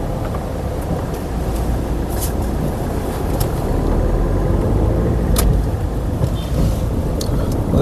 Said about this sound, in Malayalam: റോഡ് മൊത്തം വണ്ടി